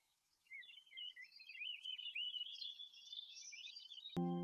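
A frightened baby bird fallen from its nest in a forest, crying in a continuous thin, high wavering chirp that lasts several seconds, then cut off by a short bright tonal chime.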